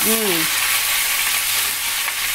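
Half an onion browning in hot oil sizzles and crackles steadily, a constant frying hiss, with a brief voiced sound at the very start.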